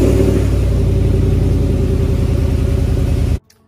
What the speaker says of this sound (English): We're gonna go ahead and back the truck out.